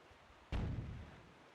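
An enemy cannon in The Legend of Zelda: The Wind Waker fires a single booming shot that fades over about half a second, distant and fairly quiet.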